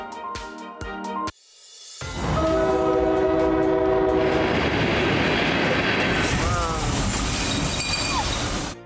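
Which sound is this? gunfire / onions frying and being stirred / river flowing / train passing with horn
train passing with horn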